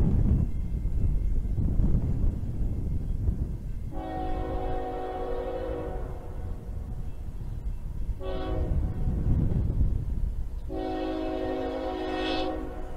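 A CSX I-010 intermodal freight train rumbles past steadily at close range while its horn sounds loud chords in three blasts, a long one, a short one, then another long one, with some wind buffeting the microphone.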